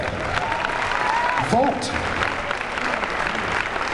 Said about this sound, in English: y'all should clap for that